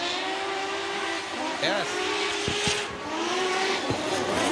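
Formula Drift Japan 2024 cars in competition, including the Cusco Racing GR Corolla, with engines revving and tires squealing at a distance, mixed with crowd noise and an announcer talking over it.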